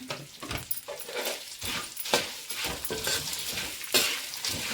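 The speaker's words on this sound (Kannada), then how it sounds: "ಒಣಮೆಣಸಿನ್ಕಾಯಿ ಕೂಡ ಸ್ವಲ್ಪ ಈ ಥರ ಪೀಸ್ ಮಾಡಿಟ್ಕೊಂಡಿದ್ದೀನಿ ಇದನ್ನು ಕೂಡ ಸೇರಿಸ್ಕೊಳ್ಳೋಣ" Dried red chilli pieces fry in hot oil for a puffed-rice churmuri snack, with crackling sizzle and intermittent stirring scrapes, close and steady.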